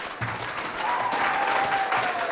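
An outdoor audience at a school event in Chad claps continuously, a dense steady applause that swells slightly over a couple of seconds, with faint voices mixed in.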